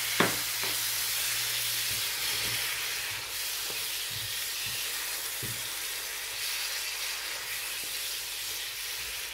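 Garlic sizzles with wilted spinach in a hot pan, a soft continuous hiss with a few light clicks and stirring scrapes, close and unaccompanied by speech.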